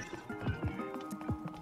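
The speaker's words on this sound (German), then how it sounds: "Ich habe ein Pferd gerufen." Quick clip-clop hoofbeats of a galloping horse in the video game Zelda: Tears of the Kingdom, several rapid thuds in a steady rhythm, fairly faint.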